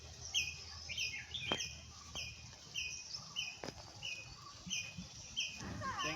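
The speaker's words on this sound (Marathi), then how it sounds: "चिमण्यांचं चिवचिवाट बघा तुम्ही" Sparrows chirp in a farm field of groundnut and maize plants, giving quick, bright, repeated calls that overlap throughout at moderate distance, over faint rustling and low outdoor ambience.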